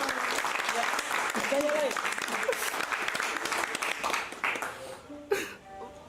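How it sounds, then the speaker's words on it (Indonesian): A group claps for a friend named Aloy, a dense patter of applause mixed with voices and shouting that thins out toward the end, followed by a sharp burst. "Semua tepuk tangan buat Aloy."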